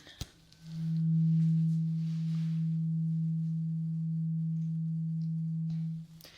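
A struck tuning fork used in an ear exam rings as a steady, pure, close tone for about five seconds, then stops abruptly, with no talking.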